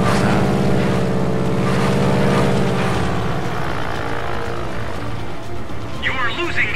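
Propeller warplane engine in World of Warplanes, a loud continuous drone whose pitch rises and shifts as the plane speeds up, later joined by a brief higher whine.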